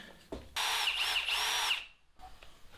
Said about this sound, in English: I'm going to go ahead and drill some holes in this piece of spring